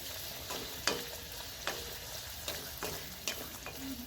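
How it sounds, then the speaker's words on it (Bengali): Luchi frying in hot oil, a faint steady sizzle with several sharp spatters and pops at irregular intervals, no voices. "এবারে লুচিগুলো নিয়ে ছেড়ে উপর থেকে একটু তেল দেব"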